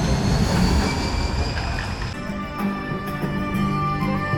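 Roller coaster train running along its track at Drayton Manor, a steady loud rumble of wheels with metallic squeal and rattling that eases slightly partway through, no voices.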